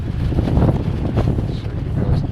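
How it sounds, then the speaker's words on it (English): Strong wind buffets the microphone outdoors on an off-grid building site deck in Africa, a steady low roaring rumble that fills the short clip with no talking. "you know when your tools get blown off the deck, how hard the wind's blowing"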